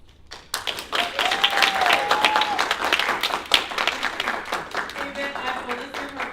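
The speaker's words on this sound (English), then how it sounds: "I will listen for continued applause." Audience applause after a Toastmasters speech at an Ardyss club celebration, a sustained burst of clapping that swells quickly and holds steady, fairly close and full, with a few voices and cheers mixed in.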